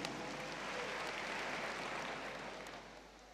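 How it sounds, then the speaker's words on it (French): An audience claps in a steady, faint round of applause at a New Year's show for the RTI, a broadband wash of hand claps that gently fades toward the end. "On applaudit pour la RTI."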